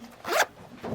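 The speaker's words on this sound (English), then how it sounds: "There's a tab to hold when I pull the zipper this way." A zipper on a handmade bitty bag is pulled in one quick, close rasping stroke, held by its tab, followed by a brief quiet pause and a faint rustle.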